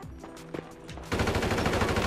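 Rapid bursts of automatic gunfire in a GTA 5 rooftop deathmatch erupt loud and dense after a short quieter stretch of game sounds, then keep firing continuously to the end.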